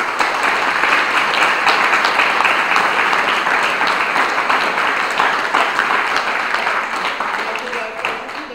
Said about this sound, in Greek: Να ευχαριστήσουμε ένα χειροκρότημα